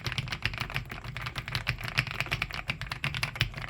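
Fast, steady typing on a clacky early personal computer keyboard, close and loud, with dense overlapping keystrokes throughout.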